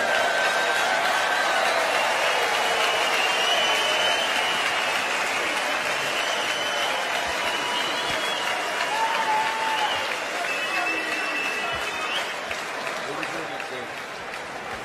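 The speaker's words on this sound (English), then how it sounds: "I'm sure a round of applause for Terry Jenkins and Adrian Lewis" Warm crowd applause fills the hall after the 2014 Coral UK Open darts final, a sustained clapping wash that slowly tapers off. A presenter's voice can be heard over it.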